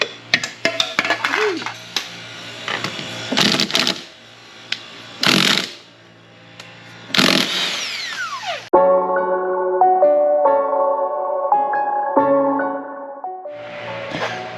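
Power tool work removing the wheels from a raised Club Car Precedent golf cart, with loud bursts of an impact wrench separated by pauses, then a steadier whirring tool, heard close up.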